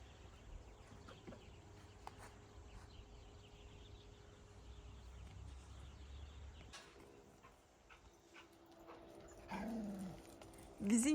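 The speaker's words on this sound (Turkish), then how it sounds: "Komşumuzun da köpeği avlularından bağırdı bakın sokakta falan değil." A neighbour's dog barks and whimpers from a yard, faint and somewhat distant, over low outdoor background rumble, with a few birds also present.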